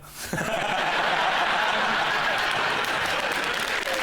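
A studio audience on a British comedy panel show bursts into applause after a brief opening sound, dense clapping mixed with some laughter that holds strong and steady to the end.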